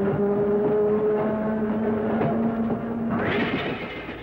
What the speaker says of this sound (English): Our two-car train consists of former Bay Area Southern Pacific interurban electric cars, affectionately called blimps.